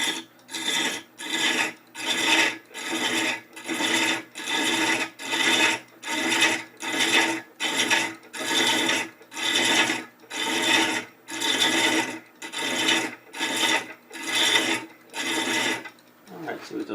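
A hand-held thread chaser cuts a screw thread into wood spinning on a lathe, giving about sixteen rhythmic rasping passes, each a loud scraping burst separated by short pauses, close and alone.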